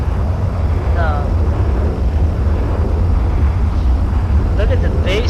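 Airliner engine in the FSX flight simulator, a loud, bass-heavy continuous rumble filling the whole stretch, with occasional faint higher tones, while people talk over it.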